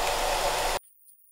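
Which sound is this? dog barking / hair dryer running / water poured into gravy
hair dryer running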